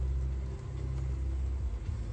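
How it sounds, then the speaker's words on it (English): A Subaru Impreza with EyeSight and its ECM disabled idles after a jump start from a dead battery, making a steady low engine rumble with a faint even drone. "So this car's running already, you can see it."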